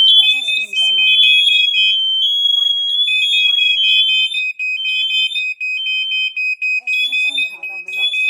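A household smoke alarm sounds during a test, shrill piercing beeps repeating in a steady rhythm, close and loud, with a synthesized voice speaking between the tones.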